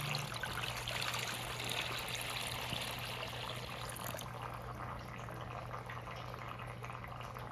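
A bucket of water poured onto a stream table gives a steady, continuous rushing trickle that stays even and fairly soft throughout, with no talk over it.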